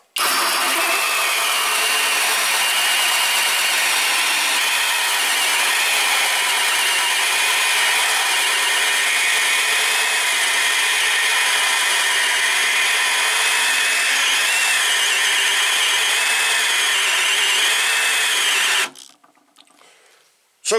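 A Skil 3071 cordless drill bores into old packing wood, a loud, steady high-pitched motor whine that holds for about nineteen seconds and then cuts out abruptly.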